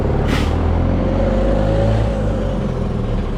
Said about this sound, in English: that bus there, you know, it's going back and forth